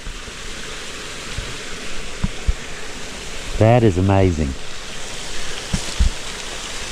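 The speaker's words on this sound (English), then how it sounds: "You just open the gate and the water goes in and goes crazy." Water rushing through an opened old gate, a steady broad roar throughout, with a person briefly exclaiming over it partway through.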